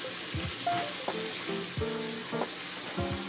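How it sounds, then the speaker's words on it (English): Turkey pieces sizzle in a hot frying pan while being stirred, with a steady crackling fry and scraping stir strokes. Short tonal clinks and squeaks recur throughout, and no one speaks. "Give it a stir."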